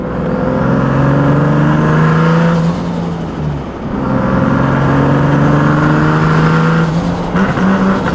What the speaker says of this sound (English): I'll give you guys a little high boost.